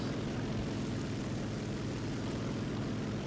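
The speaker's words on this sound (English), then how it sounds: "Jet's just flying away, probably saw me." A jet fighter in the War Thunder combat game drones steadily at a distance, a continuous low engine roar with no breaks and no talk over it.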